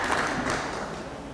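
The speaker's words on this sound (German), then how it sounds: "Ja, ich nehme euer Klatschen einfach mal so" Audience applause at a Pirate Party state conference in Bavaria, a dense, steady wash of many hands clapping in a hall, fairly loud and unbroken, with no voices over it.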